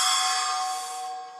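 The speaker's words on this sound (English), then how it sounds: "Alright, so this is a splash cymbal" An 8-inch splash cymbal struck once, bright and shimmering right at the onset, then washing out and fading over about a second and a half with nothing else heard.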